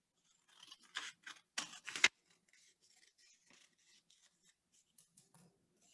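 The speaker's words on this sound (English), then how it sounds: "And we're just gonna cut this extra rectangle off." Scissors snip through paper in a few quick, close cuts, then give way to quiet handling rustles and faint taps.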